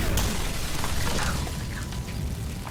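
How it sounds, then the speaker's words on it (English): In a film, a house fire bursts into an explosion after a window is broken. A dense, roaring wash of noise carries faint crackling and shattering bits, loud and steady throughout. "Todd breaks one of the windows, but fire breaks out, resulting in an explosion."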